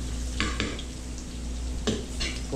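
Onion and tomato sautéing in a pan for a mung bean stew, a steady close sizzle with two short bursts of scraping as a utensil stirs, no voices.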